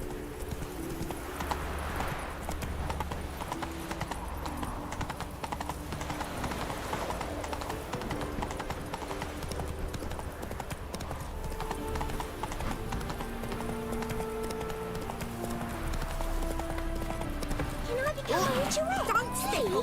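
A horse in The Witcher 3 gallops with constant rhythmic hoofbeats, a whinny early on and game music underneath, while someone talks over it.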